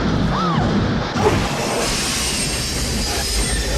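In a scene from the film Back to the Future Part III, a steam train's wheels squeal loudly against the rails, with rolling metallic clatter and a crash-like jolt in a continuous, dense rush of noise.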